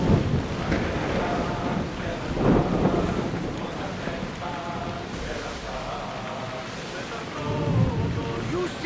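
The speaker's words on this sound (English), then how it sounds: "storm ahead!" Thunderstorm in the video game Assassin's Creed Odyssey, with a steady roar of rain and wind and low thunder rumbles swelling several times, fairly loud throughout.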